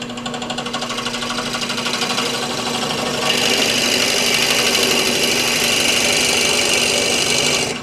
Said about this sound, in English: when you're drilling resin